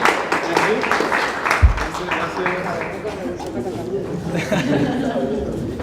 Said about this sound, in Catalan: Un aplaudiment per vostres companys.